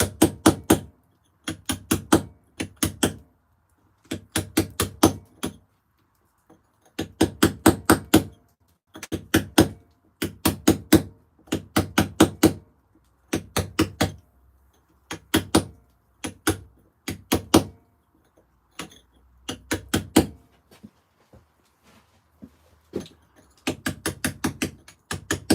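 Hammer and chisel carving stone, a face with a moustache being trimmed down, heard as clusters of sharp, ringing taps in bursts of several rapid strikes separated by short pauses, close and loud with no talk.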